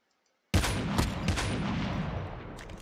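A loud burst of gunfire in a battle royale video game breaks in suddenly after a brief silence, a dense rapid volley that rings on and slowly fades, close and with no one talking.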